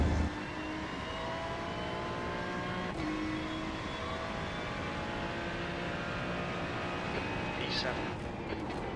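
A Ferrari 296 racing game car at the Rudskogen circuit holds a steady, droning engine note under throttle, close and continuous with a faint shift near the end, while a voice talks over it.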